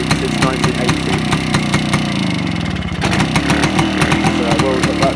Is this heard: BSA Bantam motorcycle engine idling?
yes